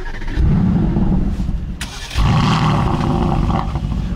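A 2019 Aston Martin Vantage AMR with manual gearbox cranks via its engine start button and fires up, settling into a loud, rumbling idle after a brief pause and restart.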